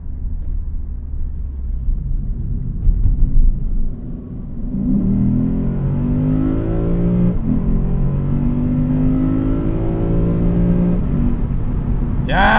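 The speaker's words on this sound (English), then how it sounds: "Oh, I love this V8 so much." A 2024 Lexus IS500 F Sport V8 accelerates hard from inside the cabin, its engine note climbing through rising revs, briefly dipping at a gear change and pulling again, loud and continuous throughout.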